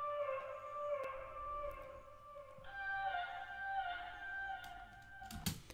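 Pitched vocal chops from an FL Studio melody, sustained sung tones stepping between different pitches in a looping pattern, ending with a brief bright burst.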